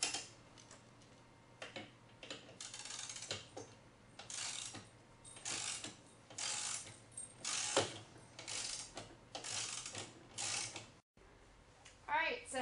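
Hand tools clicking and ratcheting as nuts are loosened from the shock mount of a Honda Grom, a steady run of fine ticking bursts at close range and fairly quiet.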